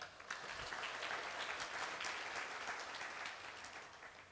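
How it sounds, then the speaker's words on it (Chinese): A conference audience at MOPCON 2017 gives a burst of applause, many hands clapping in a dense, even patter that fades slightly toward the end, heard at a moderate distance. "那大家给自己一点掌声吧"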